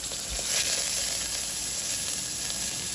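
Onion, green chili and curry leaves frying in a pan, a steady close sizzle and hiss with faint stirring, continuous for the whole stretch with no talking.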